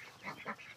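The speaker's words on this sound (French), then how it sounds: "Et oui, les canards." Ducks quacking faintly outdoors at sunrise, a few short nasal honking calls in quick succession, distant and quiet.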